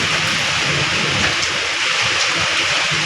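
Heavy rain pours steadily in a thunderstorm, a dense unbroken hiss of drops loud and close throughout, with no voices.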